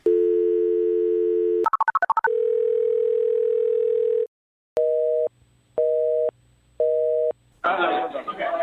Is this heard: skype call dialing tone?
yes